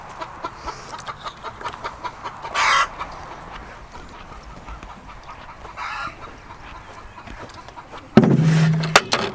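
Farm chickens clucking in short scattered bursts over a quiet background, with one louder, longer cackle near the end.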